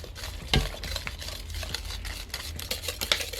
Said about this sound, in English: Grab your whisk and whisk this together.